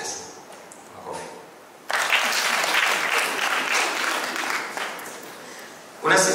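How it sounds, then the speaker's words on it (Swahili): An audience at a religious gathering breaks into loud applause for about three seconds, following a stretch of someone speaking, and the clapping fades as the talk resumes. "Makofi."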